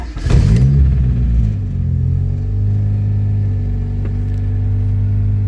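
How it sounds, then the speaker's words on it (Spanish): Nissan Sentra 88 carbureted engine just started and running cold, a steady close idle rumble after a brief louder catch at startup, holding an even low drone throughout. "Yo no sé si se escucha el motor"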